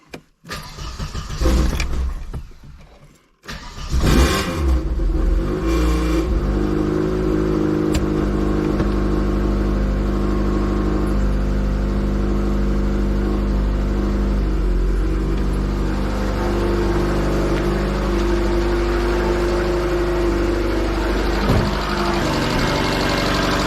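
A collectible GSI 16V car engine with a fuel leak cranks briefly, cuts out, then fires up and settles into a steady idle that runs on continuously, close by.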